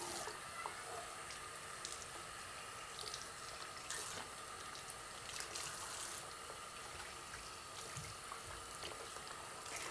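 Warm tap water runs steadily into a sink while hair extensions are wetted, a continuous hissing splash with a few faint drips and small clunks over its ten seconds.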